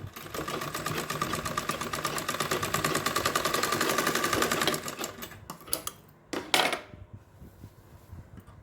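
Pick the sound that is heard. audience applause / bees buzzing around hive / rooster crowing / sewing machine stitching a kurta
sewing machine stitching a kurta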